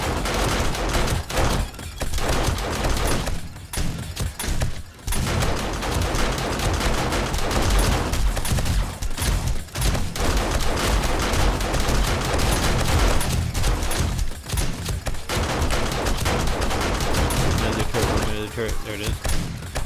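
Rapid gunfire from defensive turrets during a horde night in a survival video game, sustained and loud for most of the stretch, with brief lulls and a voice talking over it.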